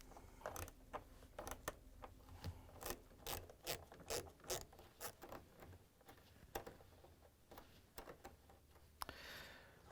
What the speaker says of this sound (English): We're going to use a ratchet with a socket and a Phillips head bit to loosen up the screw.